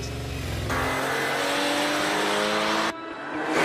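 An original Porsche 911 rear-engine sports car drives past loud and close, a steady buzzing engine roar that swells, drops off suddenly near the end, then builds again.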